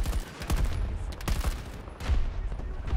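A turret fires in the Battlefield game during a 128-player all-out warfare match on a spaceport map, sounding as repeated heavy bursts of shots in a steady rhythm against the constant din of battle.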